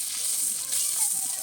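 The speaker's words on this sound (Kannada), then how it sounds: "ಫುಲ್ ಕುದಿತಾ ಇದೆ" Fish curry boils hard in a pot over a strongly burning stove, giving a continuous, even bubbling hiss that fills the brief moment.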